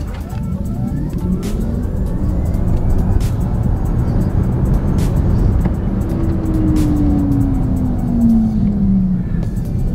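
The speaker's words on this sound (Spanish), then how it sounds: "Acelerador a fondo y ténganse porque esto jala bastante." A BYD Tang EV electric SUV with 509 hp accelerates at full throttle, giving a steady loud road and motor roar with a rising electric whine that sweeps upward, while a voice speaks faintly.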